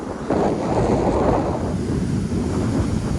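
Ocean waves wash up on a beach at Cape Fear, North Carolina, a steady broadband rush of surf with wind buffeting the microphone, close and fairly loud with no voices.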